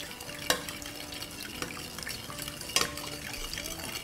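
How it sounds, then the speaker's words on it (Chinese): Sauce of oyster sauce, sesame oil, minced garlic and chili oil being stirred with a spoon in a bowl: soft intermittent scraping and liquid swishing, with a couple of sharper clinks, fairly quiet throughout. "好，我们给它搅拌均匀。"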